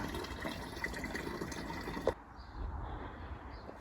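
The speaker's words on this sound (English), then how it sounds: "I will give them another water" Water pours and splashes over French dwarf bean plants during watering, a close, gentle rush. It stops abruptly about halfway through, leaving faint trickles and quiet background.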